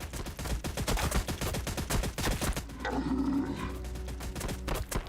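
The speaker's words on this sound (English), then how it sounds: "And then we also have the Castigator Gatling cannon" A Castigator Gatling cannon fires in the video game Warhammer 40K: Battlesector as a rapid, loud rattle of shots, followed by a roaring blast and rumble.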